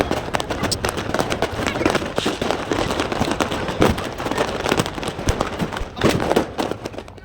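Firework candles launched for India's Independence Day, a rapid irregular series of sharp pops and bursts over several seconds, with people's voices mixed in.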